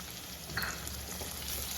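Onions with chopped tomato frying in a pan for Kerala-style kadala curry, a steady soft sizzle with faint crackle throughout, fairly quiet and without voices.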